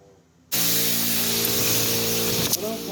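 Air spray gun spraying primer on a Nissan Skyline, a steady loud broadband hiss that starts abruptly and runs continuously, briefly dipping near the end.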